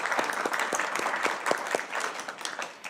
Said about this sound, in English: could we give them a round of applause to all our department heads for their presentations?